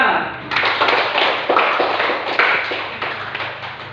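Schoolchildren in a classroom clap together in a quick run of sharp, overlapping claps that rise loudly after a brief pause and carry on steadily to the end.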